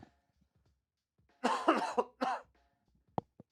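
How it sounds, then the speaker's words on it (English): Several harsh coughs in a short burst, then a brief throat-clearing sound, close to the microphone in an otherwise quiet room. "I'm going to try my very best to make sure that I don't cough into your guys' ears."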